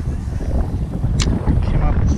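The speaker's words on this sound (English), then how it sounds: "It's a little windy." Wind buffeting the microphone while fishing outdoors, a rough low rumble with gusty fluctuations across a short stretch and faint faraway sounds mixed in.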